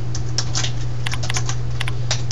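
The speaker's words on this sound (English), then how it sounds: "So just type in whatever your address is." An address is typed on a computer keyboard, close and brisk key clicks in quick irregular bursts over a constant low electrical hum, with no speech.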